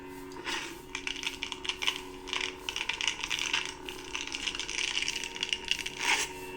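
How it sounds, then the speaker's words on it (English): Custom Proffie Neopixel lightsaber (AC51 MHS hilt) playing a force sound effect: a steady hum with a crackling, rumbling surge layered over it. The swell lasts several seconds and is fairly loud, with no voices. "So that's the force sound."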